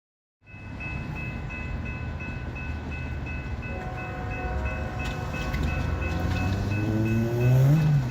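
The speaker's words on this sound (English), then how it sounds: "NS 8103 was leading westbound intermodal train 21G through a little bit of snow flurries as well" A Norfolk Southern intermodal freight train, led by a Norfolk and Western heritage unit, rolls past on a westbound run in light snow flurries. Its steady rumble builds and a horn tone sounds near the end, with no talk.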